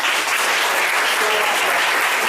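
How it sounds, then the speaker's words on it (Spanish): Dense, steady applause from an audience fills the whole stretch, loud and continuous with no pauses, as a guest is welcomed at a Spanish-language event. "les pido un fuerte aplauso"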